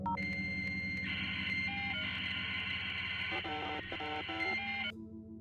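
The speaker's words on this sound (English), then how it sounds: "that classic sound of a dial-up modem" Dial-up modem handshake in the video game Mainlining, a steady loud run of beeps, tones and buzzing negotiation squeals that shift pitch every second or so before cutting off near the end, with no voices.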